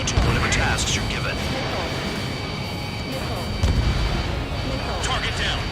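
Bombs burst in the air-combat game Ace Combat 7, a dense, rumbling run of explosions and cracks rolling on continuously with jet noise, a couple of louder blasts standing out.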